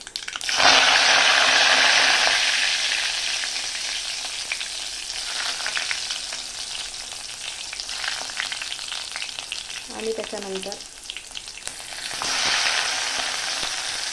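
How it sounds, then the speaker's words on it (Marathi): Mustard seeds, garlic and curry leaves sizzle loudly in hot oil, a dense crackling hiss that fills the whole stretch, easing slightly midway and flaring again near the end, with a brief voice speaking over it. "राई चांगली तडतडली मग आपण लसूण आणि कढीपत्ता टाकायचा आहे।"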